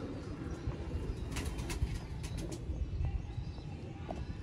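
Golden pigeons, a breeding pair kept by a Sialkot fancier, cooing softly in a low rhythmic murmur, with occasional chirps and brief wing flutters over a steady background rumble.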